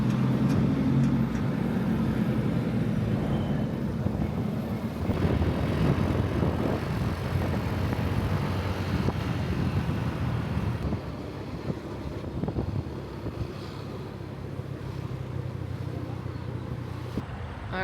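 A hired motorbike taxi ride through a city in Thailand, a steady engine drone with wind buffeting the microphone and passing traffic, continuous for the whole stretch with no one speaking.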